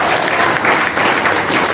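Loud, dense audience applause at a talk on democratic change, a sustained wash of clapping hands filling the space with slight rises and falls, with a faint murmur of voices underneath.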